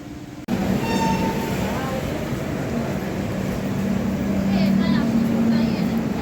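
Train pulling into Katwa Junction station in West Bengal, a steady loud rumble with a sustained low hum and faint squeal, with people talking in the background.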